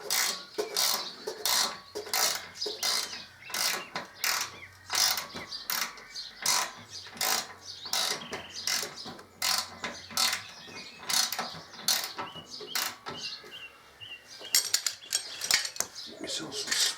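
A torque wrench tightens the swingarm bolts on a 2005 Harley-Davidson Electraglide to 45–60 pound-feet. Rapid, close metallic ratcheting clicks come in steady repeated bursts throughout, with no talking.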